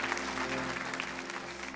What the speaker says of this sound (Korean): 우리 감사 영광의 박수합니다